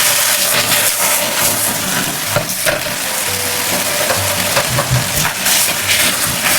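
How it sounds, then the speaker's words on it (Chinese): Chicken and shiitake mushrooms stir-fried with sauce in a hot wok, a loud continuous sizzle broken by repeated scraping tosses of a spatula, close up with no voices. "快速翻炒，让食材均匀地裹上料汁。"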